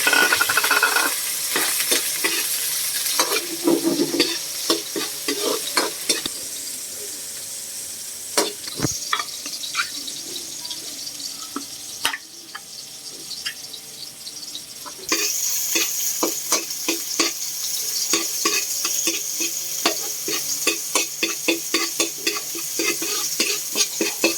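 A large heap of onions sautéing in a pan, a continuous close sizzle with rapid, frequent scraping and tapping of a utensil stirring, briefly quieter midway before the stirring picks up again.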